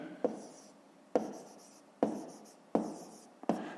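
Pen strokes scratch on paper as a math inequality is written out by hand, in five quick taps and scrapes at a steady pace, close and quiet, with no talking.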